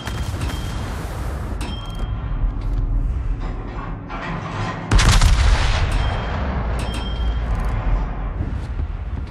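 Warship main guns fire repeatedly in World of Warships, with the Jean Bart battleship in play. The booming salvos and rumbling blasts sound dense and continuous, with one heavy report standing out partway through.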